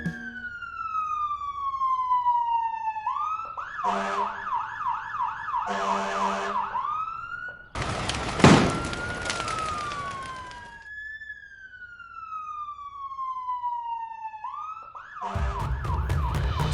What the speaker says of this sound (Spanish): Sirenas.